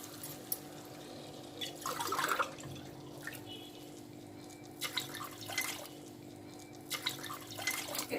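Water is poured from a glass into a pot for cooking rice, several short splashing pours and drips separated by quiet pauses, faint and close.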